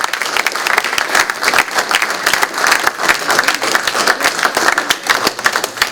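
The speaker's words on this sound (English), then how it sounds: "Give yourself another round of applause." A large audience claps steadily, dense and sustained applause filling the room for several seconds.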